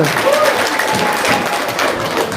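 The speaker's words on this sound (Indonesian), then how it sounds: "Tepuk tangannya dong" Loud, steady audience applause at a seminar, a dense wash of clapping that carries on without pause, with a hint of voices mixed in.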